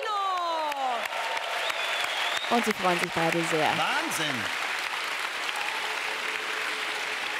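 An arena audience at a German TV garden show applauds a singer with steady, dense clapping throughout, while a presenter talks excitedly over it and sustained musical tones sound early on.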